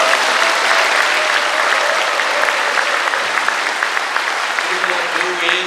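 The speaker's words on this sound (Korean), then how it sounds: "여러분들 박수로 부탁드립니다" An audience at a Korean War veterans' gathering claps loudly and continuously, a dense even wash of many hands close by with a few louder claps standing out, sustained throughout.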